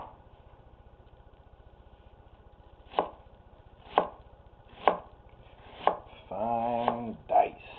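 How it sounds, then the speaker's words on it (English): A knife dicing onions on a board, five distinct evenly spaced chops over a low hum, followed by a short scraping rasp and one more chop. "Finely diced onions."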